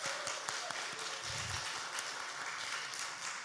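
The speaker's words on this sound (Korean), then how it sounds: "우리 박수로 환영할게요." A church youth group applauds in welcome during an afternoon service, a soft, steady wash of many hands clapping at moderate distance with a faint low murmur underneath.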